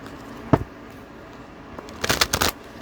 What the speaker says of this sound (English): We're going to shuffle like that one more time.